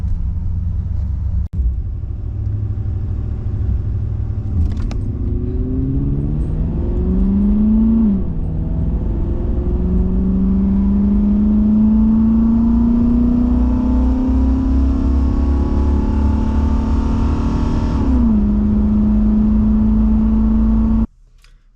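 Cadillac fitted with an Olds 350 engine and Edelbrock 2711 parts on a test run, a loud interior drone that rises through the gears with shifts and steady engine rumble before cutting off at the end.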